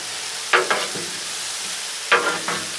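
Bratwurst and bacon on a Blackstone griddle, a soft constant sizzle broken by two pairs of sharp spatula scrapes, close and without speech.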